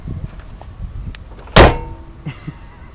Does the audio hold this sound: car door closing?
yes